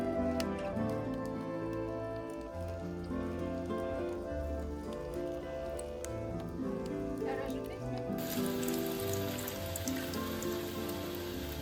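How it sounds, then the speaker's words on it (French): Rain patters continuously outside a forest home, a faint steady wash beneath a tonal, harmonic foreground sound. "il pleut sans arrêt"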